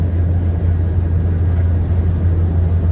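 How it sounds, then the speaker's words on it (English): An old van's engine drones loudly and continuously while driving on a road trip, a heavy low rumble with steady road noise and no speech over it. "I really can't talk that much just because how loud the car is when I drive."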